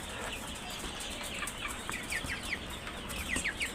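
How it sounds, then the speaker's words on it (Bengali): Several large hill-breed chickens, about two months old, cluck and chirp in short bursts over a constant background hiss, moderately close, with no one talking. "অনেক বড় বড় বাহারি কালারের ছুটি মুরগি আছে"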